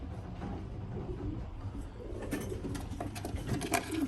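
Pigeons in a loft, young birds and older hens, make soft low cooing throughout, with some fluttering and scratching nearby that grows busier in the second half.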